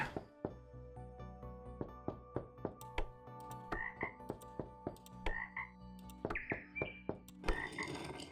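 Video game frog croaks repeat steadily over a hollow knocking pattern, with a few brighter bird chirps mixed in, close and clear, no voices.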